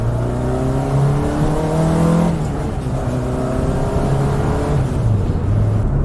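A 1967 Austin Mini Cooper S engine drones steadily close by, its pitch climbing and falling as it changes gears, with a throaty rasp and no voices.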